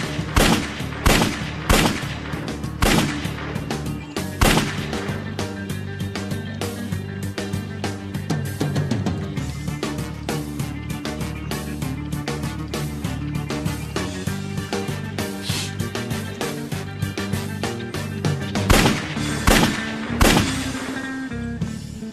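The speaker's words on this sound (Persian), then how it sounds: "این چه تیرپرانی است ها" Dense gunfire fills the scene, with rapid bursts and repeated loud shots cracking close by over a sustained, chaotic din, some volleys louder near the start and end.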